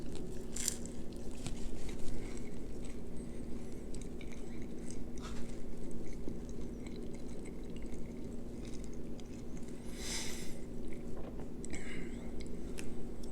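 Close, quiet biting and chewing of a Papa John's football-shaped pizza, soft crunches and mouth sounds repeating steadily over a low background hum.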